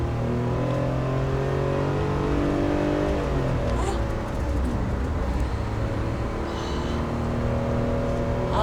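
A Chevrolet The New Spark accelerating on a road drive, its engine note rising steadily and close, with continuous road and wind noise throughout.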